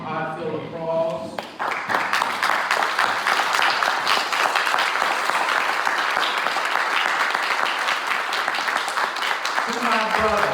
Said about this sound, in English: So I'd like to ask everyone to rise and give this brother a heartfelt applause.